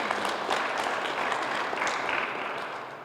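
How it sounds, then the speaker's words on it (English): Audience at a Brownfields Fund award celebration breaks into applause, a dense, steady patter of many hands clapping that fades slightly toward the end. "a round of applause for Lynn for all the great work that they're doing"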